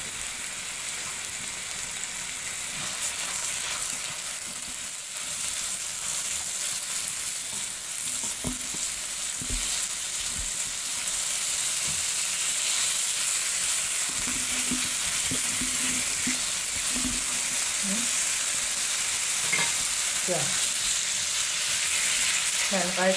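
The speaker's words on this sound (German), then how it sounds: "gebe ich mein Hackfleisch hier dazu und brate ich das Ganze" Steady sizzling of ground meat frying in a hot pan, with occasional scraping and stirring clatter from a utensil, close by and continuous with no talking.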